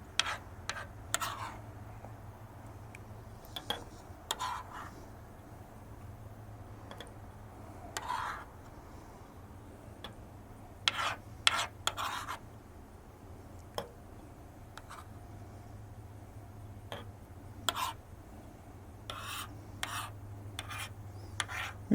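Cucumber and cantaloupe seeds scooped with a utensil into glasses of water: quiet, close scraping and rubbing strokes with scattered small clicks and taps come at irregular intervals over a low steady hum, without any speech.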